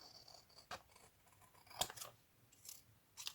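Scissors snipping at craft material, a few quiet, close crisp cuts with short pauses between them in an otherwise hushed room.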